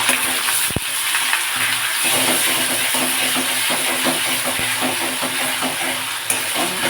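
Onion paste sizzles loudly and steadily in hot oil in a pan for chicken rezala, with a dense hiss and faint scraping stir strokes underneath, close and continuous.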